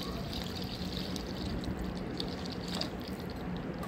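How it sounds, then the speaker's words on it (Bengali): Water poured into a pot of browned chicken for a Bengali-style meat curry, making a steady close splashing pour that runs the whole time with no talking. "এবার জল দিয়ে দিলাম।"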